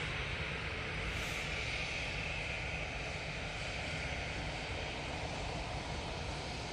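An Emirates airliner at Manchester Airport gives a loud, steady broadband engine roar that holds evenly throughout, with no voices.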